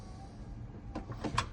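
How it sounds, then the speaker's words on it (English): The power sliding door on a 2015 Toyota wheelchair van starts to open with a few faint clicks and a soft latch release. A brief mechanical whir follows near the end. "That's going to open the door."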